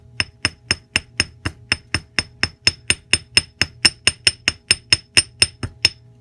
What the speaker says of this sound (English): Now I'm going to use my heavier hammer on this one again.